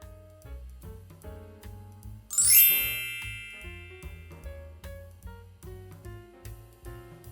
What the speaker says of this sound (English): ring the notification bell so every time I upload a new video, you get notified